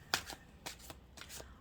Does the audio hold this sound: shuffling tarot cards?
yes